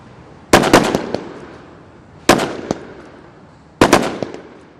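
Three sharp gunshots ring out at roughly even intervals, each a loud crack with a decaying echo, as snipers engage targets during a SWAT assault exercise at an outdoor range.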